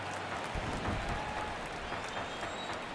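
A baseball stadium crowd at Petco Park in MLB The Show 23, Colorado Rockies at San Diego Padres, gives a steady, diffuse roar with a brief swell, heard alone.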